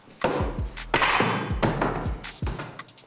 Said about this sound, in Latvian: Āmurs.